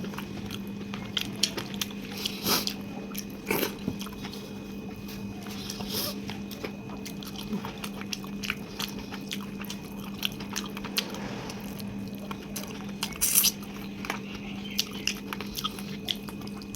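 Loud, close mouth sounds of someone eating fish with rice: irregular crunchy bites and wet chewing over a steady low hum, with no talking.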